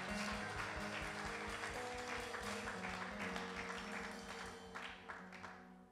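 Congregation clapping during a French-language church service, a steady rhythmic applause mixed with music or singing, loud and continuous before thinning toward the end.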